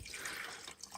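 Paint stripper poured into a container for stripping Hot Wheels cars, a brief liquid splash and drip with a watery, trickling texture, close and fairly quiet, no voices.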